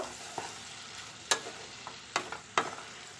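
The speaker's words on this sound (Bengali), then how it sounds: "আর যেহেতু চিংড়িটা দিয়েছি তাই একটু আর একটুখানি লবণও দিয়ে দিচ্ছি বন্ধুরা ভালো করে এটা নেড়ে দেব" Shrimp seasoned with salt are stirred in a pan, a quiet background of faint frying punctuated by a few sharp, separate clinks and scrapes of the spoon against the metal.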